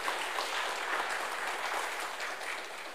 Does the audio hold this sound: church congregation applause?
yes